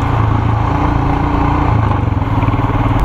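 Motorcycle engine running steadily in low gear on a mountain road in Ladakh on the way to Pangong Tso, a loud continuous close-up drone that holds throughout.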